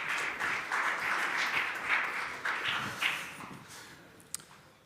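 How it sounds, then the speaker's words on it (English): Applause from an audience welcoming a five-person startup team onto the stage at a waste challenge event, a steady wash of clapping at moderate level that fades slightly toward the end. "Give a round of applause."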